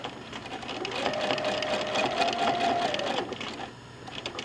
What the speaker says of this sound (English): So I did my locking stitches, and I'm going to proceed about an inch down.